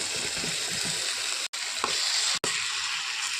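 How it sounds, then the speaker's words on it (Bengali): Ridge gourd and potatoes with spices fry in a pan with a loud, continuous sizzling hiss, briefly cut out twice, with faint scraping underneath. "সব কিছু দিয়ে ভালো করে ভেজে নেব। আলু দিয়ে দেবো, ভেজে নেব। ঝিঙ্গা দিয়ে দেবো।"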